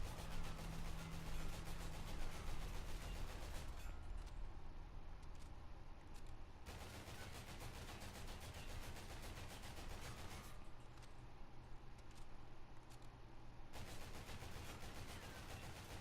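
Sustained automatic gunfire from the Volk Retro rifle in Call of Duty: Infinite Warfare, a dense continuous rattle of rapid shots in bursts, loud and close, with no talking.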